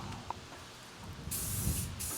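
An aerosol spray paint can sprays a part of a 20-year-old dual sport motorcycle, giving a short bright hissing burst that starts partway in and sits over quiet low background noise.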